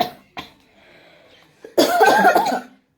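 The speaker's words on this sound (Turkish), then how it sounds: "O yüzden onun öksürük sesi geliyordu." A few separate coughs from a person nearby, with a short isolated cough at the start and then a longer, loud burst of harsh coughing near the end, close to the microphone.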